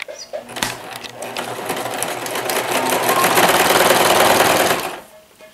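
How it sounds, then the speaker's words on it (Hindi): A sewing machine stitching a straight seam runs with a steady, fast mechanical whir that builds slightly louder before stopping near the end, close up and clear, with no talking. "ऊपर हम सिलाई लगाएंगे स्ट्रेट वाली, और उसे बहुत थोड़ा सा मार्जिन देंगे"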